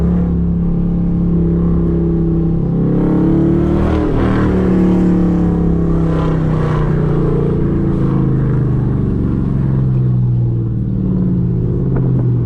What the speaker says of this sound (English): I don't like the way my exhaust really sound